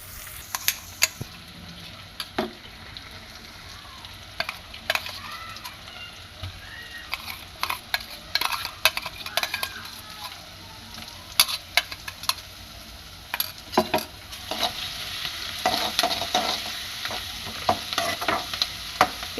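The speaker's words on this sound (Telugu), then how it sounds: "ఈ ఆయిల్లో బాగా ఫ్రై అయ్యాక మనం మిక్సీ కాడ పెట్టుకున్న పచ్చిమిరపకాయలు, తెల్లవల్లి, కొత్తిమీర దీంట్లోకి వేసుకోవాలి" Green chili, garlic and coriander paste frying in hot oil, with soft steady sizzling and frequent sharp clicks and scrapes from stirring, close up and with no talk.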